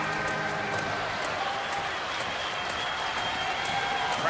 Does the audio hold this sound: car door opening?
no